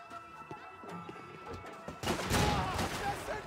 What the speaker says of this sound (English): this shotgun is so OP